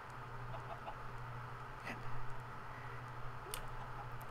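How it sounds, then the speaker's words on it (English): A video game chicken clucks a few times in short bursts over a steady low hum and background game ambience, with no talking. "I hear a chicken."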